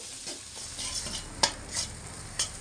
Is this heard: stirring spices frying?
yes